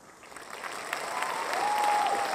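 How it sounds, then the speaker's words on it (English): Concert audience applauding at a live show, a steady wash of clapping that swells gradually over a couple of seconds. "Yeah, you can clap, it's okay"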